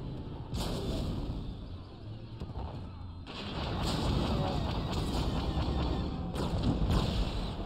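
Explosions rumble through a Star Wars Battlefront 2 battle, a sustained low roar with loud sharp blasts near 0.6, 3.3, 5 and 6.4 seconds, with scattered weapon fire in the din.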